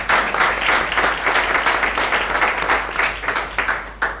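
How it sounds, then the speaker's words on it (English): An audience at a school board meeting claps in a brief round of applause, moderately loud with uneven, overlapping claps that taper off near the end. "If we give her a round of applause, excellent job,"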